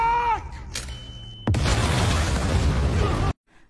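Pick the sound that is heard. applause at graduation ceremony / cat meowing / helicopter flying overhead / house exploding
house exploding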